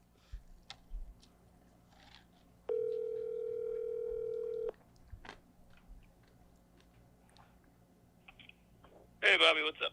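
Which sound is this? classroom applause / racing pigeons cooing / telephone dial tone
telephone dial tone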